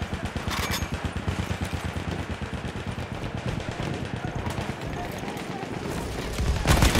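An M1917 machine gun with a telescopic sight fires in Battlefield 1, sustained rapid automatic bursts thudding continuously and loudly for several seconds before easing off.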